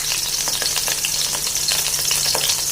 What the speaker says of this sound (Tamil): கொஞ்சம் வதக்கணும். பிறகு வாசத்துக்காக ஃப்ரை போடுறோம்.